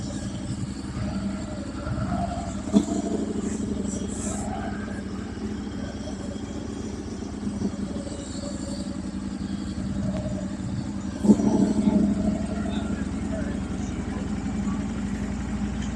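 Classic motorcycles idle at a restaurant parking area, a steady low engine rumble with a couple of short revs, one near the three-second mark and a stronger one around eleven seconds, heard fairly faint and without talk.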